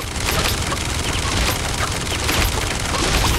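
A minigun in the Realm Royale video game fires a continuous, loud, dense stream of rapid shots that stays at full intensity for the whole stretch, with no voices.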